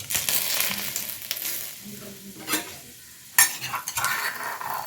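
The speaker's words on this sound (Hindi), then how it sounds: "अभी तेल गर्म हो गया है, इसमें हम थोड़ा डालेंगे पाँचफोरन और तेज़पत्ता।" Panch phoron and bay leaves hit hot oil for a Manipuri snail curry, giving a steady close sizzle with sharper crackling bursts and a few utensil stirs, with no talking.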